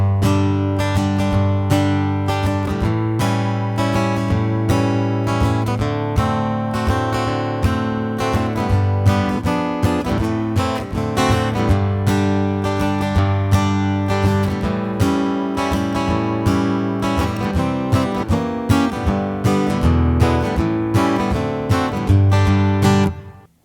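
Guitar chords strummed in a steady rhythm through the chorus of the song, close and continuous, with no singing or talking.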